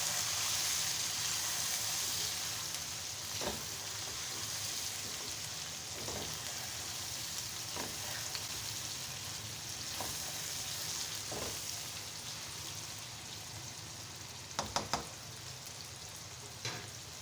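Chicken masala with half a spoon of ground garam masala sizzles and fries steadily in a pot as it is stirred, with occasional louder clinks of the spoon against the pot.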